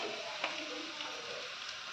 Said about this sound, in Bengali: এবার পেঁয়াজ কুচিটা দিয়ে দেবো, দিয়ে আবারও একটু হালকা করে ভেজে নেবো